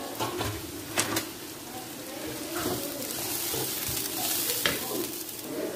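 Chopped onions frying in a pan for baingan bharta while being stirred, a soft steady sizzle with a few scraping clicks of the spoon, faint bird coos in the background.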